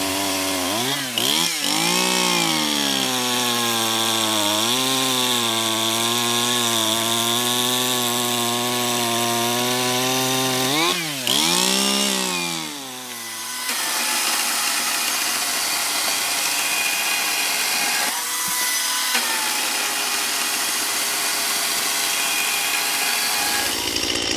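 A loud chainsaw revs and cuts steadily through wood, its pitch dipping under load, then a brief pause before the engine roars on, close by.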